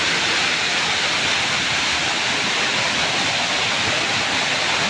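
Strong mudflow surging past: dense, continuous broadband roar like heavy rushing water, loud and unbroken throughout, with no clear voices.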